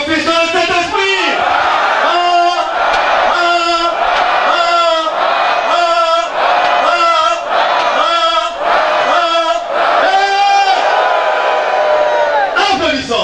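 A church congregation voices loud rhythmic group acclamations to God, repeated bursts of shouting in unison roughly once a second, a sustained crowd cry over about thirteen seconds.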